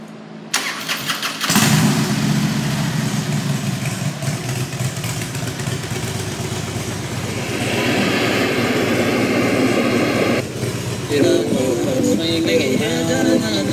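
A 2006 Harley-Davidson Street Glide FLHXI with a five-speed transmission and about 44,930 miles cranks and fires up, then settles into a loud, close, lumpy idle that swells with revs before easing back.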